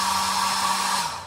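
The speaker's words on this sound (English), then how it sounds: "this is the hairdryer that's here. These are the low powered ones." A low-powered hair dryer in a Carnival Venezia cruise ship cabin blows with a steady, close whirring hum and airy rush, then winds down as it is switched off.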